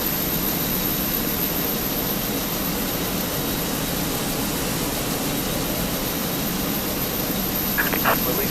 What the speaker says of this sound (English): pushback and engine start approved